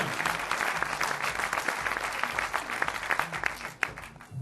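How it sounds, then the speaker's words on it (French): Audience applause for a biker at a bikers' school event at the Lacs de l'Eau d'Heure, a steady wash of clapping from a crowd lasting throughout, moderately loud with scattered sharper claps. "je vous demanderai d'applaudir Cyril Detilleux également"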